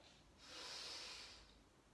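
A single slow, soft Ujjayi breath drawn in through the nose makes a faint, airy hiss that swells and fades during a quiet yoga session.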